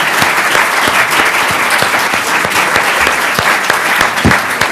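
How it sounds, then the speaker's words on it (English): An audience at a roundtable discussion gives the panelists a round of applause, loud, dense and sustained clapping from a full room, with a few sharper individual claps standing out. "we should thank them with a round of applause"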